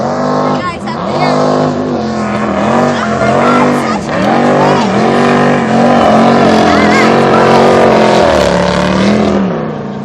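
A high-power custom jet boat engine on Pitt River roars loudly and continuously, its pitch rising and falling as it revs, with voices faintly audible beneath it.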